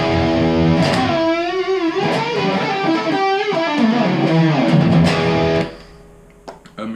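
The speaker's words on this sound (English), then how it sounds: "And we are playing my Pete Townsend Les Paul Deluxe." A Pete Townshend Les Paul Deluxe electric guitar with a Bare Knuckle Pig 90 pickup plays a loud, distorted melodic line of bends and sustained notes, then cuts out into picking noise.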